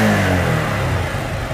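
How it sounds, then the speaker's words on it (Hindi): A motorcycle with a non-working display starts on its electric self-starter and settles into a steady, close, loud idle, with no voices. "तो दोस्तों देख सकते हैं एक सेल्फ में भी स्टार्ट हो गया ये बाइक"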